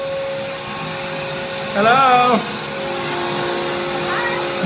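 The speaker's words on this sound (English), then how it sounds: "You can hear her vacuuming over there." A vacuum cleaner runs steadily in an apartment as a constant whine in the background, while a short shouted greeting cuts through partway.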